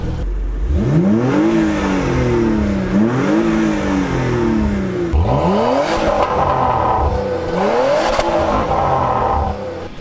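An Alfa Romeo Stelvio Quadrifoglio and a Porsche Macan Turbo rev in turn, with four loud close engine blips climbing and falling in pitch, each followed by a brief settle back to idle.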